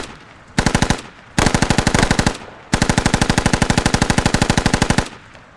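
Automatic gunfire in Rainbow Six Siege, three loud, close bursts of rapid shots, a short burst, a slightly longer one, then a sustained stream of over two seconds, with brief pauses between them.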